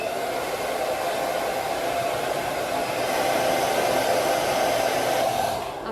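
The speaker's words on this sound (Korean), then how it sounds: "간단히 머리 말려 보겠습니다" A hair dryer blows steadily while drying hair, a loud, even whooshing hiss that holds for several seconds and then cuts off abruptly at the end, with no talk.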